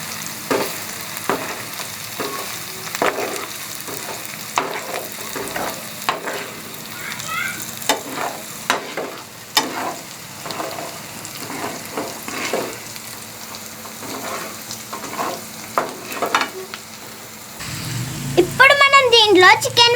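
Chili powder, turmeric and salt stirred in a frying pan for gongura chicken curry, a soft sizzle with repeated scraping spatula strokes at a steady rhythm, close, with louder clattering near the end.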